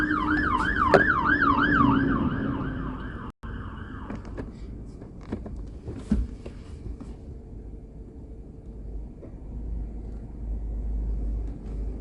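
A fire engine siren wails in a rapid rising-and-falling warble, loud and close for about three seconds before cutting off, leaving the rumble of passing road traffic.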